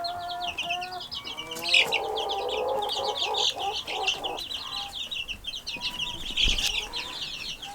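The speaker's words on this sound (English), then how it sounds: "But all the baby chicks are doing really good." Baby chicks in a brooder under a heat light chirp in rapid, high, overlapping peeps close by, with a few lower clucks and light scuffling mixed in.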